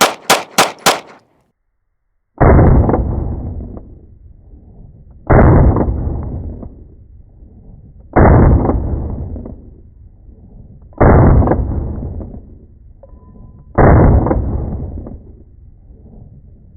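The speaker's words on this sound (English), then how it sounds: "I'm going to shoot 5 rounds of each." Five loud, sharp gunshots from a Bul Armory Ultralight Pro compact pistol firing 147-grain rounds, spaced about three seconds apart, each cracking close and decaying into outdoor echo.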